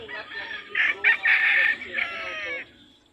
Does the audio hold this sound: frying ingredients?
no